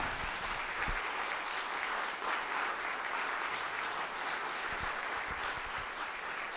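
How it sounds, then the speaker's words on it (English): Sustained audience applause after a school wind ensemble concert, a steady, full roar of many hands clapping close by that holds evenly throughout. "So give them another round of applause."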